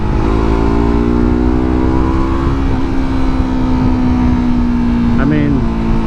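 A Yamaha R3 motorcycle engine drones loudly and steadily in 4th gear at about 45 mph, holding a smooth up-close tone before a brief extra push of throttle near the end.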